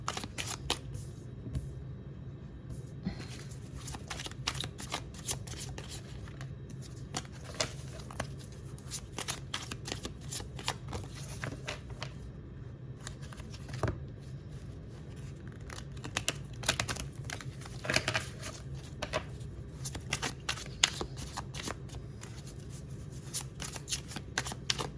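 Forest oracle cards shuffled by hand, a steady close riffling and sliding of card stock with sharp flicks throughout, no voices.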